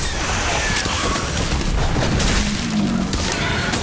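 Spell blasts boom and crackle in a Harry Potter video game, a dense, loud barrage of explosive bursts running continuously for a few seconds.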